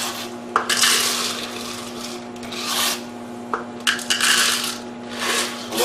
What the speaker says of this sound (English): We're going to put 2 cups of macaroni noodles in here.